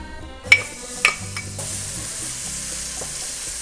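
Chopped onion hits hot olive oil in a pan for a caprese risotto, setting off a steady hiss of frying with a couple of sharp stirring clacks at the start, close and without speech.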